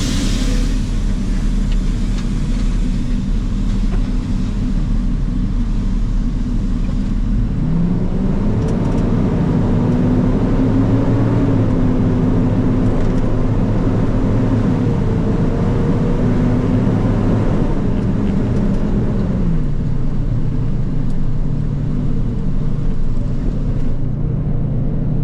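A Class B box truck engine cruises steadily on the I-95 highway, a continuous loud low drone with road rumble, rising in pitch for a stretch mid-ride before settling back, with no talking.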